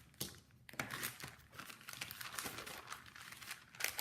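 Paper being folded back and creased with a bone folder for a vintage trifold paper bag, close crinkling and sliding rubs in uneven bursts, quiet and without speech.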